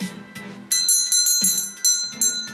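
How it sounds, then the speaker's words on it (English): A bell rung at the end of a class, struck several times in an uneven rhythm with bright ringing overtones that sustain and overlap over quiet background music. "So with that, I'm going to ring the bell."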